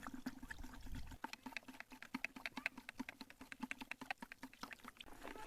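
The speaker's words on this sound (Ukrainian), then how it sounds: "Тоненькою струйкою вливаю інсектоакарицид і постійно помішую." Insecticide-acaricide poured in a thin stream while being stirred: a brief liquid pour, then rapid irregular tapping and clicking of stirring in a container, fairly quiet and close, with no talk.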